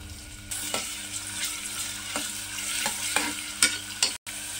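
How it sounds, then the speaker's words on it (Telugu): Chopped onions and green chillies fry in hot oil, a steady close sizzle broken by several sharp scrapes and stirs of a spatula, with no voices. "ఒక 5 మినిట్స్ వరకు ఆయిల్లో ఫ్రై చేసుకోవాలండి."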